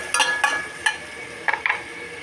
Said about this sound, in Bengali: তাই প্রথমে একটুখানি গাজর ভেজে নিলাম।